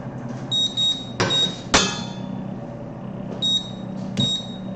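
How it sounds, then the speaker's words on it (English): Repeated electronic beeps from a kitchen appliance, a home cooking setup where queso and braised pork shoulder are being made, come in short clusters with clunks and knocks between them, fairly close and with no talking. "Turn that off. The incessant beeping."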